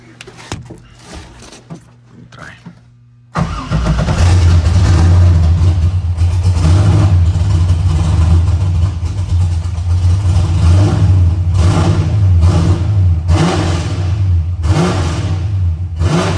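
A car engine fitted with a new ECU cranks and catches after a few quiet seconds, then runs loud and close with a steady roar and some revving, with speech faintly under it.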